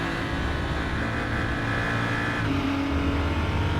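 A BMW M235i race car engine at Portimao in the Raceroom racing game drones steadily and loud throughout, a continuous engine hum with a slight pitch shift partway, no talk.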